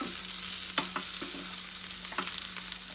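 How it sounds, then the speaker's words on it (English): Okra stir-fried with coconut and salt sizzles in a pan while a spatula scrapes and stirs it in a few distinct strokes over the steady frying hiss, with no voices. "And give it a good stir."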